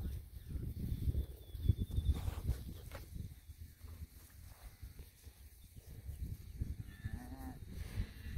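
Out on a livestock farm, a cow searching for her calf gives a few faint, drawn-out moos in the distance, mixed with soft rustling, footsteps and low outdoor noise.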